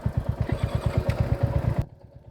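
A motorcycle engine runs close on a bike ride along a rural road to a temple, pulsing in a fast, even beat before it cuts off abruptly near the end.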